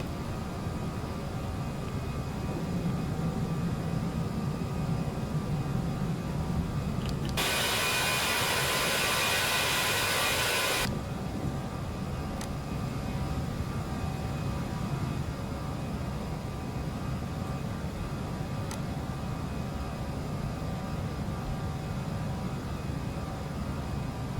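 Aerosoft A319 airliner jet engines at climb thrust in the Prepar3D flight simulator: a steady, continuous roar that swells into a louder broadband surge for a few seconds midway, then settles back. No one speaks.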